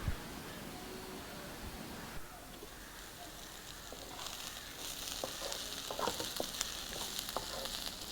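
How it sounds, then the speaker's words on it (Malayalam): Turkey berries coated in masala cooking in a covered pan over low heat, giving a soft, steady sizzle and faint frying crackle, low in level, with no talking. "മസാലയെല്ലാം ചുണ്ടങ്ങയിൽ പിടിച്ചൊന്ന് വെന്ത് കിട്ടുന്നതിനായി അടച്ച് വെച്ച് വേവിക്കാം, ചെറുതീയിൽ വെച്ച് വേവിക്കാം"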